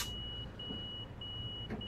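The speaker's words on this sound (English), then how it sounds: "Okay, we gotta lock our doors." Train doors locking in Train Sim World 2 give a steady high warning tone that cuts in and out over a constant low rumble of the idling train, fairly faint overall.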